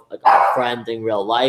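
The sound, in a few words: dog barking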